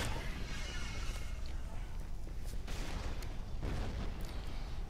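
Grenades bursting in a Killzone 2 multiplayer match, a dense run of booming blasts and crackling gunfire that keeps a loud, continuous battle din going throughout.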